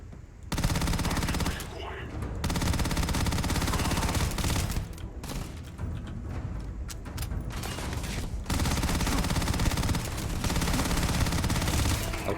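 Machine gun fire in Starfield rattles in long, dense sustained bursts with brief pauses between them, loud and close throughout.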